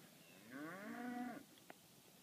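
A Black Baldy cow in a pasture gives a single long, drawn-out moo that rises and then holds steady, fairly close and clear over faint outdoor background, followed by a brief small knock.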